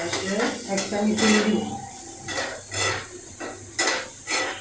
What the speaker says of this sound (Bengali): মশলা কষে